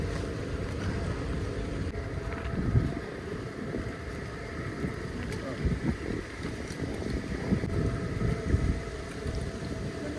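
A shikara boat gliding along the Alleppey backwaters in Kerala, with a low steady rumble, water movement and wind buffeting the microphone, plus faint voices in the background.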